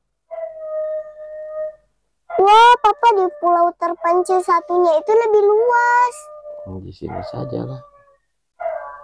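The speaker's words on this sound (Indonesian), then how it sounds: "Itu suara anjing ribut sekali ya di luar." Dogs howl outside a tent at a campsite on a remote island, with drawn-out wavering howls at a moderate distance. Someone talks loudly over them.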